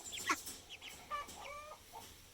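An egg-laying hen on a farm gives a run of soft clucks and short chirpy calls, faint and somewhat distant, scattered across a quiet background.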